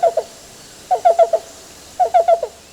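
Black-billed cuckoo calling in a clear, fairly close series of soft hollow hoots grouped in twos, fours and fours with short pauses between groups, with no other sound around it.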